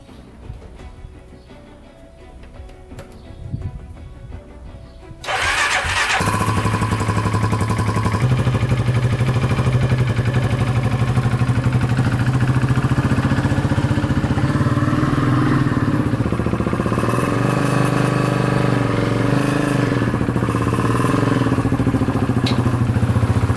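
A modified Polaris Outlaw 500 quad's engine cranks and catches after a few quiet seconds, then settles into a loud, steady, close idle with a slight rhythmic clatter.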